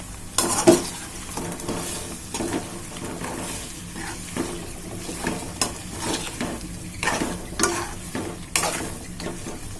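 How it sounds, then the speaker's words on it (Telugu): Boiled chicken stirred into a frying pan for spicy chicken fry, a spoon scraping and clinking against the pan in repeated strokes over a steady sizzle, close and clear with no talk. "ఇప్పుడు మనం ఉడికించుకున్న చికెన్ కూడా వేసుకుందాం. ఇది కలిసేటట్టు అంతా కలుపుకుందాం."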